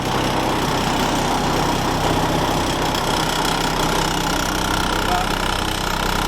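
A vintage FIAT 643 N truck engine idles with a loud, close, steady knocking rumble and even vibration throughout, with talk faintly over it.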